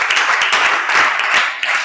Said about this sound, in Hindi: एक बार तालियों के साथ इनका स्वागत कीजिए